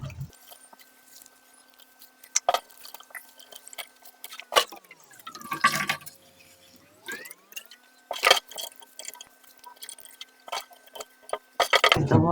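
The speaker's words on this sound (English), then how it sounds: "we're going to keep refilling the water, keep squeezing it out until the water becomes clear" Water splashing and dripping as food is squeezed and rinsed in a bowl of water while cooking a vegetarian meal, in scattered irregular bursts with quiet gaps between them.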